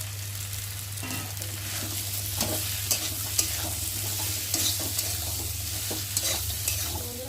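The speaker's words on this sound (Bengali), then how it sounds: "ভেজে রাখা কাঁকড়াটাকে দিয়ে দেবো, দিয়ে মশলার সাথে কাঁকড়াটাও ভালোভাবে কষিয়ে নেব।" Fried crab is stirred and sautéed with spice masala in a pan, a continuous sizzle with repeated scraping strokes of the spoon throughout, close and steady, no talking.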